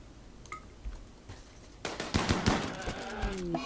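Colonists open fire in RimWorld, with a few scattered faint shots followed by a louder cluster of rapid gunfire, fairly quiet overall.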